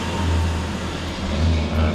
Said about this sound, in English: Probably you guys can hear the traffic right now.